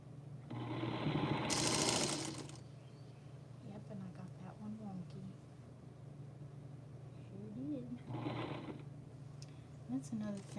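Singer Featherweight sewing machine stitching quilt seams in two bursts, a longer close mechanical run at the start and a shorter one near the end, with a steady motor hum between.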